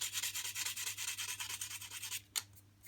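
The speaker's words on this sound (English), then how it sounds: "a little buff up with some 600 grit wet and dry" Metal is hand sanded on a custom Metro 6R4 chassis with 600 grit wet and dry paper, a soft close rubbing in quick even strokes that stops with one sharper scrape near the end.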